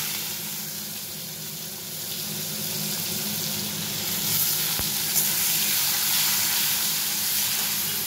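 Chopped onions sizzle steadily in a hot pan for a paneer dish, with a continuous moderate frying hiss and no talking.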